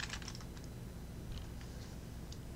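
A computer keyboard is used to type a page title in note-taking software, giving faint, light clicking keystrokes in short bursts over a steady noisy background hiss.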